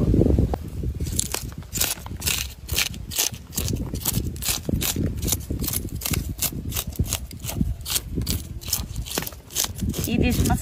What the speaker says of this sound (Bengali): এইবার মাছটাকে আঁশ ছাড়িয়ে কেটে নেব।